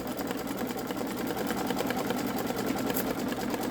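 A Babylock Solaris embroidery machine stitches a satin stitch around metallic vinyl, a fast steady mechanical whirring and needle chatter running close and constant with no other sound.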